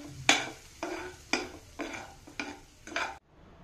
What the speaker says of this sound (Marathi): लिंबू पिळून घेऊ आणि छानपैकी याला हलवून घेऊ।